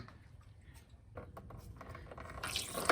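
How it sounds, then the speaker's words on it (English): Coolant draining out of a BMW E30's M52 engine, trickling and splashing onto the ground, faint at first and then rising into a louder gushing spatter. "Look at how much it splashes everywhere."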